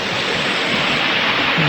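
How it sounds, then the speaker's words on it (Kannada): Kudlu Theertha waterfall near Hebri, Udupi, a steady, loud, close roar of falling water that stays even and unbroken throughout, with no voices. "ಆ ನಡುವಲ್ಲಿ ಒಂದು ಜಲಪಾತ"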